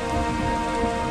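Heavy, steady rain poured as a sound effect in a narrated fairy tale, a dense continuous hiss with no voice over it during this short moment.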